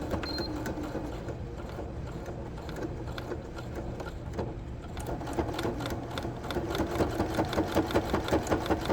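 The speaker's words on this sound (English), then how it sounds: "you're going to run a straight stitch across the top" A sewing machine running a straight stitch across the top of a backpack, a steady mechanical whir that picks up into a fast, even rhythmic chatter, close and alone with no talk.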